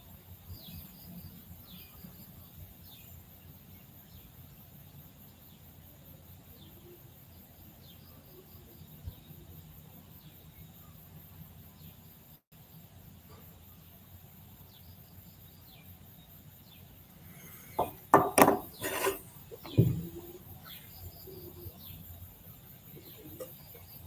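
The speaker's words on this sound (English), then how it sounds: "frogs and birds and lizards are all going nuts just as the sun is starting to rise" Dawn chorus in Thailand as the sun rises: a steady dense wash of insect and frog calling with scattered bird chirps, and a few louder close calls near the end, no talking.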